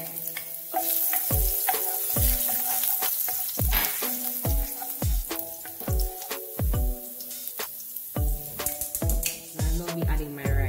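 Minced garlic and scotch bonnet pepper fry in vegetable oil in a pot, a steady sizzle under many quick ringing metallic clinks and scrapes from a utensil striking the pot, close and busy throughout.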